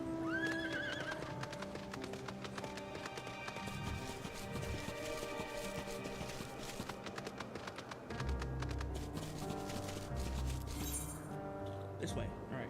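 Horse hooves clip-clop steadily in the video game Final Fantasy XIV, mixed with a whinny and game music throughout.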